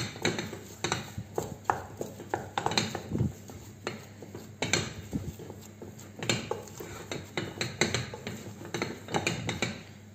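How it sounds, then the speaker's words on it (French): Choux pastry dough is worked in a pan with a spoon, continuous rhythmic scraping and light clattering knocks, fairly faint and close, going on for about ten seconds without talking. "je vais mélanger comme ça pendant à peu près 2 minutes"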